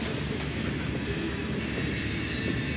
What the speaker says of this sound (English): there's another train going by.